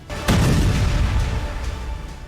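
A suicide bomb blast at a gate, captured on CCTV: one sudden heavy boom that erupts almost at once, then a long rumbling roar that slowly fades, with no voices.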